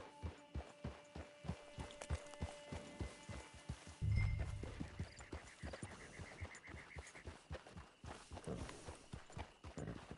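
Steady clip-clop of horse hooves walking at an even pace in the Red Dead video game, close and clear, with a brief low rumble partway through.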